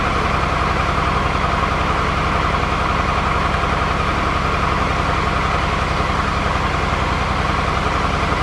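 A Triumph Tiger 800XC motorcycle engine idles roughly with one cylinder misfiring, giving a steady, close, uneven low throb that runs alone and without a break.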